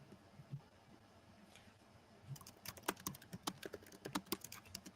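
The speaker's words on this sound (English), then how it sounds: "I hear Mike typing away." Rapid, irregular tapping of fingers on a computer keyboard, faint and close, starting sparse then becoming a steady busy flurry of clicks with no talking.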